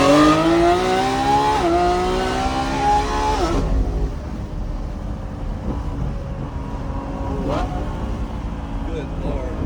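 A McLaren sports car accelerates hard, the engine note climbing in steps through quick gear shifts before settling into a lower rumble, heard from inside with people talking over it.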